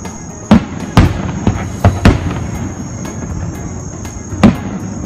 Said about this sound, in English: The celebration concluded with fireworks.